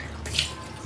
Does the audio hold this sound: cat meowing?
no